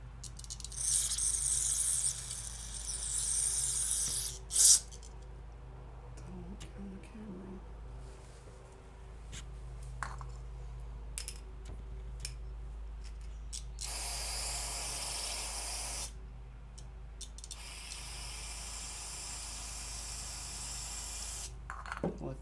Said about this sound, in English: I'm going to take this outside and just spray everything down as best I can